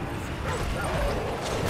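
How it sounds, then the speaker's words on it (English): A dog barks and yips in a survival video game, muffled under dense, continuous game noise throughout the short stretch. "That's a dog."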